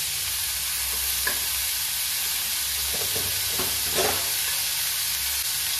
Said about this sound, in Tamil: கருவேப்பிலை அதை சேர்த்து நல்லா வதக்கிக்கலாம்.